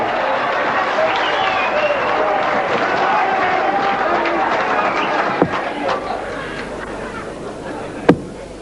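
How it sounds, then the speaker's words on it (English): Crowd at the 1983 World Darts Final reacting in an arena: a steady dense murmur and chatter of many spectators with scattered claps and a couple of sharp knocks, while a voice speaks over it. "The crowd emoting."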